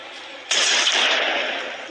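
A sudden loud burst of video game gunfire breaks in after a quieter stretch, then holds as a dense, roaring blast that slowly fades.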